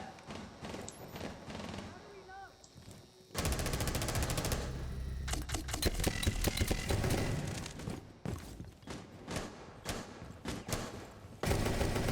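Rapid gunfire bursts in the tactical shooter Rainbow Six, loud and dense, starting a few seconds in and running almost continuously after a quieter opening with a voice.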